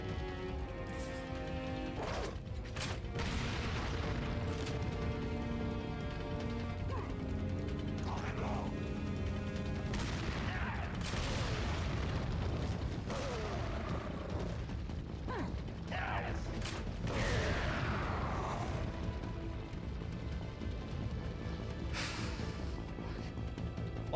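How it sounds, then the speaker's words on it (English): Explosions and mechanical clatter in the Resident Evil 4 Wii Edition video game, a busy stream of bangs, crashes and creaking gear noises at moderate level throughout. "Lots of explosions."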